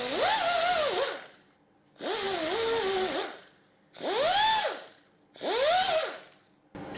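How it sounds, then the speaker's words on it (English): A power sanding disc knocks the burr off a sharp metal edge left by a bandsaw, in four roughly one-second bursts, each a whining spin-up and grind that winds back down, with short quiet gaps between. "hit it with the sanding disc and knock down the sharp edge"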